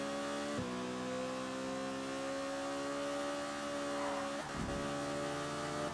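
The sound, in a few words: V8 Supercar engine racing in video game ToCA Race Driver 2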